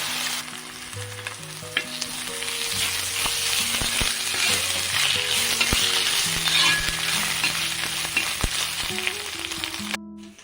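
Ginger sizzles with onions in hot oil for a chicken curry. A dense, continuous frying crackle runs close and loud, dotted with light stirring clicks, then cuts off abruptly at the end, with no voices.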